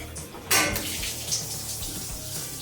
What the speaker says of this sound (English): Ooh, more coolant all over the floor for today.